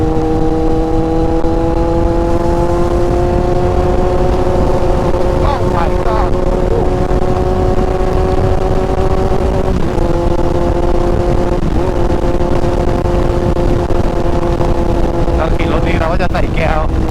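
A vehicle engine drones steadily while climbing a hill at night, its pitch holding fairly level and then dipping briefly at gear shifts, with someone talking over it throughout.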